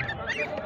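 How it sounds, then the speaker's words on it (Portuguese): Goose goslings give short honking calls at a poultry market, a few nasal honks in quick succession, close and fairly faint. "Filhote de ganso e filhote de pato, olha."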